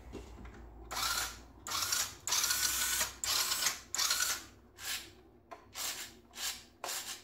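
A hand-built model mouse droid's mechanism runs after being switched on, giving a series of roughly nine rasping, whirring bursts with brief gaps, close and fairly loud, with no talking.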